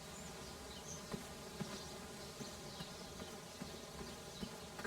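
Bees buzz in the King's Quest video game, a faint steady drone of insect wings with soft repeated thumps, no voices over it.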